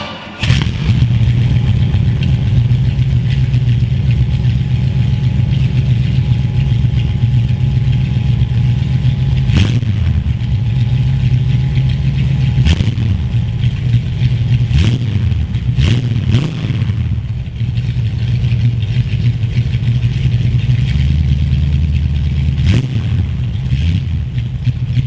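A 1970 Pontiac Firebird V8 starts and settles into a loud, lumpy idle after repairs to its fuel return line. Sharp throttle blips punctuate the steady rumble throughout a long stretch with no talking.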